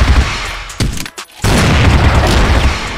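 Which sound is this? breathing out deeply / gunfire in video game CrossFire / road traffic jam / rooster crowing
gunfire in video game CrossFire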